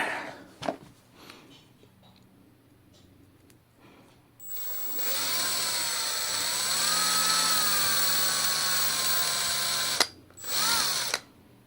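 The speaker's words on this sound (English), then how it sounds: "You could always go in with a drill and polish it out a bit." A power drill polishing a watch strap whirs steadily for several seconds, its pitch wavering slightly, then cuts off and briefly restarts in a short final burst.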